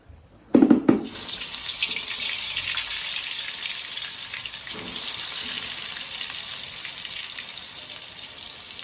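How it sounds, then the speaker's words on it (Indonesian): Tempeh drops into hot oil in a home kitchen with a sharp burst of sizzle, then fries in a steady, hissing crackle that slowly eases, with no talking. "goreng tempe"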